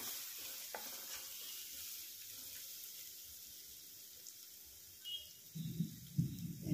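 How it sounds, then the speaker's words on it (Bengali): Grated ginger fries faintly in a pan with a soft, low hiss, and muffled stirring bumps and knocks grow louder toward the end. "গ্রেট করা আদাটা দিয়ে দিলাম। এটা ওইভাবে একটু নেড়ে চেড়ে নেব।"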